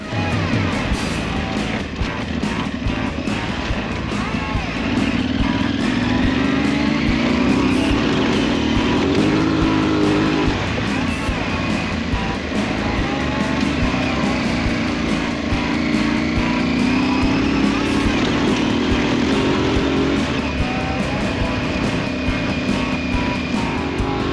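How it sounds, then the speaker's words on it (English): Steady, loud engine drone of a Scorpion XT-9000 motorcycle ridden off-road near Havasu, droning continuously with gradual pitch rises and falls as the throttle changes, wind rushing throughout. "I switched the bike into off-road mode and headed out to the Bunker Bar"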